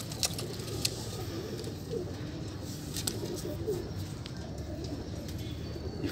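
Two pairs of dub pigeons cooing nearby, soft repeated low coos overlapping in a continuous murmur, with occasional light rustles and faint chirps in the background.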